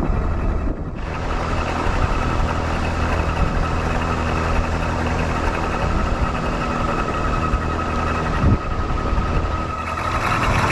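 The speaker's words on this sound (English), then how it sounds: "I am not appreciating the noises this motor is making. The whining is one thing, but there's that other chattering noise going on." A car motor runs continuously up close with a sustained whine over a rough, chattering rumble, holding steady and loud throughout with a brief clunk near the end.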